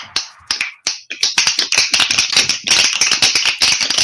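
An audience snaps fingers for a poet, starting with a few scattered sharp snaps and building into a dense, overlapping crackle of many snaps close by.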